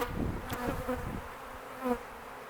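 Honey bees buzz during a beehive inspection at a home apiary, a close, steady drone with a few louder passes of single bees and no talking.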